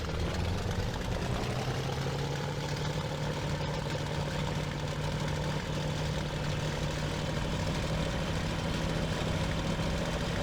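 A Daimler-Benz 601 engine of a Bf-109 idles in the IL-2 Sturmovik flight game, producing a steady, low, droning hum with constant noise throughout and no speech.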